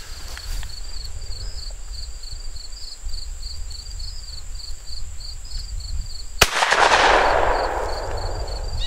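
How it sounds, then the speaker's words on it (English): A Remington Model 1889 double-barrel shotgun fires, with one sharp loud blast midway that rings into a broad decaying roar, over a steady outdoor background hum and a repeating insect-like chirp. "this time we're just going to shoot it normal, and we'll shoot the right barrel and then the left barrel."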